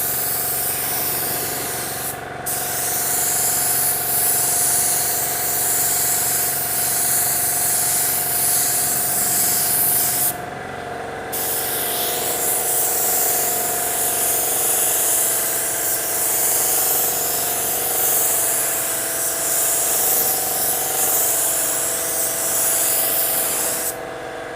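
A spray gun lays down automotive clear coat at about 28 PSI with a widened fan pattern, hissing loudly and continuously in long passes broken by two brief pauses.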